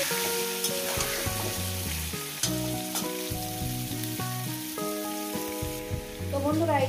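Potato chunks for aloo dum frying in hot oil give a steady, close sizzle that runs the whole way through, with background music playing over it.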